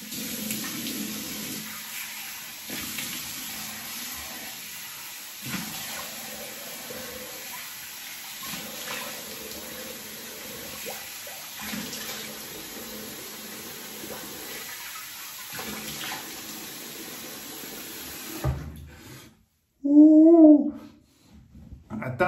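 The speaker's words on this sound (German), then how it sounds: "Einmal das Gesicht mit kaltem Wasser abwaschen, damit es noch ein bisschen kälter wird." Cold tap water runs steadily into a basin as a face is washed, splashing and pausing in uneven bursts for about eighteen seconds before the flow stops, followed by a short voiced sound.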